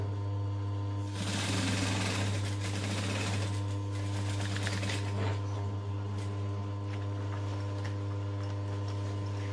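A sewing machine stitches a backpack in a fast, steady whir of needle strokes for several seconds over a constant hum, then slows and quiets, with no speech.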